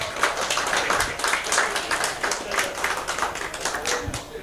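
A room audience claps for a guest being introduced at a community gathering: steady, dense applause of many hands throughout, fairly close, with no talking over it.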